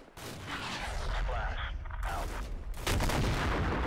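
Artillery fire in Combat Mission, loud booming impacts and rumbling blasts layered over one another, with a sharp fresh burst near the end.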